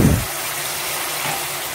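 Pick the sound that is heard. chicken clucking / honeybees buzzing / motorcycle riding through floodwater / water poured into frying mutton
water poured into frying mutton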